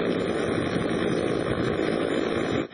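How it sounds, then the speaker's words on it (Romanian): Tiger attack and NH-90 military helicopters fly during an armed forces display, their engines and rotors forming a loud, steady, droning roar that holds throughout without talk. "Armata a demonstrat capacitățile elicopterului de atac Tigru și ale NH-90"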